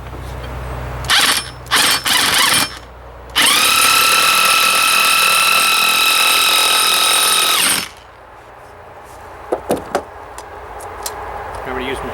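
An impact driver drives 1/2-inch screws into pre-drilled 3/8 holes in a wall plate, with a few short bursts, then one long, loud, steady whirring run, followed by brief clicks and taps.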